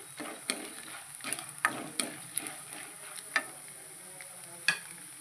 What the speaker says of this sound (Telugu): మినపప్పు శనగపప్పు కూడా వేసేసుకుంటాం బాగా ఫ్రై అవ్వాలి